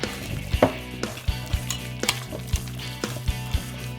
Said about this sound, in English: So let's whisk all this together.